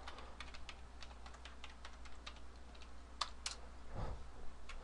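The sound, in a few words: typing a new password on a computer keyboard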